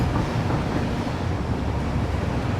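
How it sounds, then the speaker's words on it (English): A train rolls steadily along its rails in the factory-building game Satisfactory, a continuous dense rumble with broadband wash holding an even level throughout, heard alone with no talk. "So yeah, it's a train."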